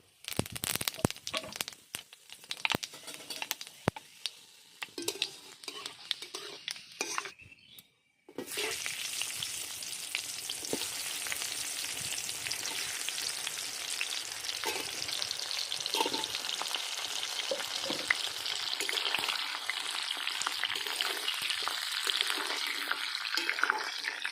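Raw green mango pickle, skin on, with panch phoron, frying and being stirred in pure mustard oil in a kadai: a steady, loud sizzle with crinkly stirring scrapes, briefly cut off near the start before resuming continuously.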